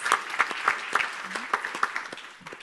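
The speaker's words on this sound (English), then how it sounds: "putting all of this together and deserves a big applause is Jessica Divest." Audience applause at a financial markets conference, a fairly faint, steady patter of clapping hands in a hall with sharper individual claps standing out.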